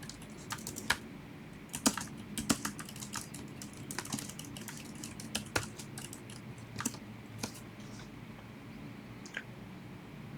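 Keys clatter on a computer keyboard as a pip command is typed, with scattered light clicks and a few heavier keystrokes close by over a faint background hiss.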